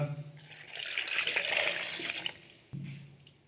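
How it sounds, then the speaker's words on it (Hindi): Water pours steadily from a glass into a blender for about two seconds, a bright, close splashing stream that tapers off, followed by a low thump and a quieter hum. "2 गिलास पानी के डालेंगे इसमें"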